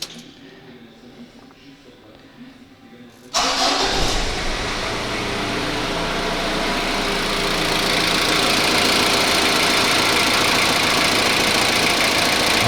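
A Ford diesel engine runs on test with new pipes fitted; after a quieter opening it starts up loud and close, then holds a steady, rough, knocking idle.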